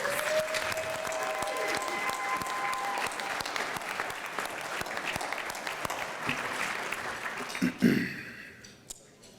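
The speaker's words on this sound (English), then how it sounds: "Let's have a round of applause for our VAB Board of Directors." Sustained audience applause at a broadcasters' hall of fame awards show honoring the VAB Board of Directors, dense and steady with a voice speaking over it, tapering off near the end.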